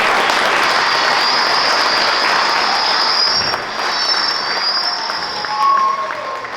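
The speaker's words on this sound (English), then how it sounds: "if we could all give him a round of applause" A crowd at a school PTO auction claps to welcome the auctioneer, a steady wash of applause that thins briefly midway, with a sustained high feedback-like tone running over it.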